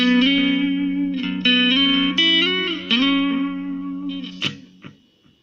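An electric guitar played through the analog reverb of a Nux MG200 rings out in simple sustained chords and notes, each new strum swelling then fading with a soft ambient tail before a few sharper plucked notes at the end.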